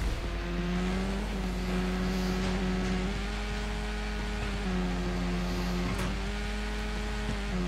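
Motorbike engine held at full throttle in Trials Evolution, a steady, loud droning whine with small pitch dips as the bike lands and shifts, running continuously throughout.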